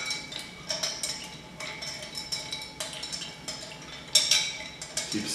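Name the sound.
stirring a Manhattan cocktail with ice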